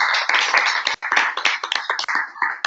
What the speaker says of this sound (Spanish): yo les doy un aplauso